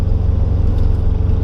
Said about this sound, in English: But the one thing about this car is how loud it is.